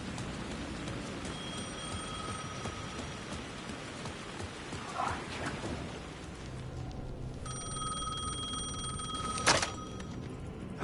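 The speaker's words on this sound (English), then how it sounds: "The phone was ringing again." A telephone rings in the video game Alan Wake II, with ringing tones heard over a steady rain-like ambient hiss and a sharp louder burst near the end.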